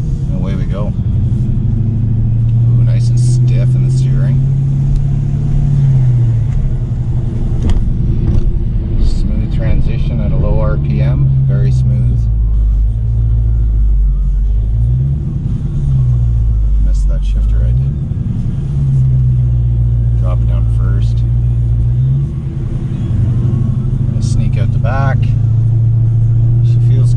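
A 2019 Dodge Charger SRT 392 Scat Pack V8 rumbles steadily as it pulls away and drives, a deep, loud engine drone with gear-change swells, heard from inside under someone talking throughout.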